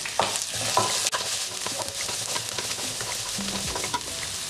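Finely chopped onion hits a hot pan with crushed dry chilli, crackling and sizzling up close as a spatula stirs with a few scraping knocks over the steady fry.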